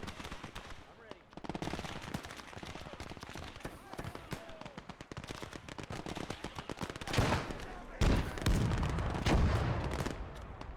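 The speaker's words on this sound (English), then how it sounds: "Finally the M8 starts firing" Rapid bursts of automatic gunfire from an M8 armored car in the Gates of Hell battle game, loud and dense, with heavier blasts near the end and someone talking over the shooting.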